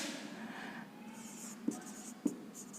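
Marker or chalk writing on a board during a lesson on clock reasoning is faint and scratchy, with two sharp taps standing out against a quiet room and no talk.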